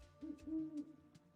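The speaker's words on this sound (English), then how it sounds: "Are there owl noises in game?" Owl hooting in the video game Terraria, a few soft rounded hoots in a steady rhythm against a quiet game backdrop, with no voices over it.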